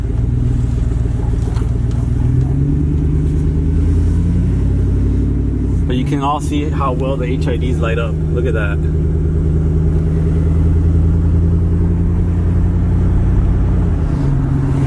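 A rebuilt, lowered single cab Chevrolet Silverado pickup rumbles steadily from inside the cab on a test drive, its low engine drone constant beneath someone talking.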